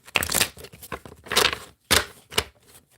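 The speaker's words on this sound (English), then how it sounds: "Okay, that was last shuffle." A tarot card deck shuffled in short bursts, papery riffling and tearing-like snaps in three or four close, moderately loud clusters with brief pauses between.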